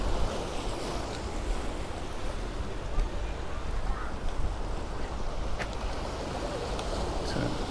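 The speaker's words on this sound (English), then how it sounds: "We've got a little bit of wind coming over in this direction, so it's bringing in a few waves." Steady wash of sea waves breaking on a beach at Palmanova, Mallorca, with wind adding a constant rushing noise; no distinct individual breakers stand out, and faint background activity sits beneath.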